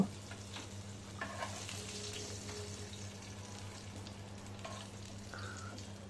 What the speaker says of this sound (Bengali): ফ্রাই প্যানে তেল গরম হলে একটু একটু করে মাছ ভেজে নিব